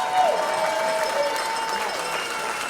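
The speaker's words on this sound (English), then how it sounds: "So another round of applause from all of her family and friends here." Family and friends applaud at a Dancing with the Stars charity finale in Gloucester County, a broad, steady roar of clapping and cheering with faint voices mixed in.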